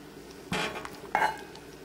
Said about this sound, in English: you scoop out about a cup. And you put them in a bowl.